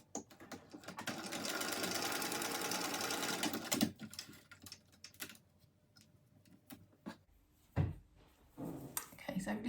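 A sewing machine zigzag-stitches butted fabric strap scraps for a mini backpack in a steady burst of close, quiet stitching, then stops; clicks, handling sounds and light talk follow.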